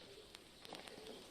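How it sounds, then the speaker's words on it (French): Pigeons coo softly in a brief, faint passage, with a few low murmuring calls set against quiet background hiss. "Sans doute des pigeons."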